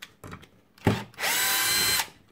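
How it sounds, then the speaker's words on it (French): A Bosch GSR 12V-15 FC cordless drill driver drives a screw in one steady, close whirring burst of under a second, with a soft handling knock just before it. "si je me mets en position 10, je suis capable de visser à peu près à la même profondeur à chaque fois."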